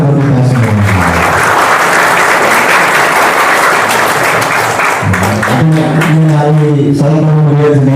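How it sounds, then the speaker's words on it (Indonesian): Applause from an audience of inmates at a prison Islamic boarding school in Bojonegoro, a dense burst of clapping between stretches of amplified, music-like tones. "Tepuk tangan untuk kita semua."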